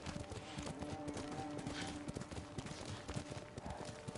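A horse's hooves clop steadily at a quick riding pace in the samurai video game Ghost of Tsushima, a faint rhythmic patter of hoofbeats under low ambient game sound.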